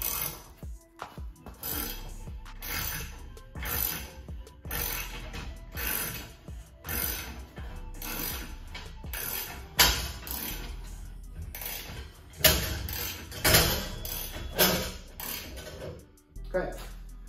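A parachute spring is retracted into its canister mechanism, producing a close series of irregular metallic clanks, clicks and scraping rattles with uneven bursts and pauses.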